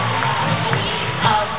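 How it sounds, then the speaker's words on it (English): Cruise audience aboard the Norwegian Jewel applauding the ship's officers, staff and crew at a farewell show; a steady wash of crowd noise with some cheering, muffled and band-limited. "A round of applause one more time for the officers, staff and crew of the Norwegian Jewel"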